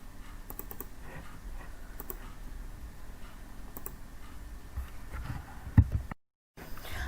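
Typing on a computer keyboard while writing Java code: soft, close key clicks come in short uneven runs over a quiet background, with a brief dropout near the end.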